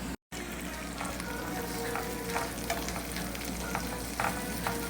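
Mushrooms, sausage and green onions sauté in a hot pan with a steady, close sizzle and occasional stirring scrapes, continuous after a brief silent gap at the start.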